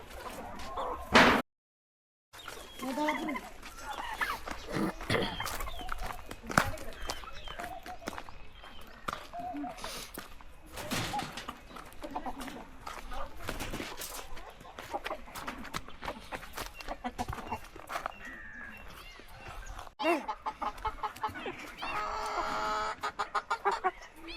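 Chickens cluck continuously nearby, a busy flock with overlapping calls and rustling, and a burst of rapid clucking near the end.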